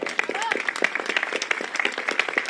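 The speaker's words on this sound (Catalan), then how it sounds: "Fort aplaudiment." Theatre audience applause, a dense patter of many hands clapping steadily, with cheering voices rising over it.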